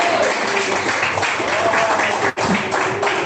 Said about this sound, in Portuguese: Palmas que da glória a Deus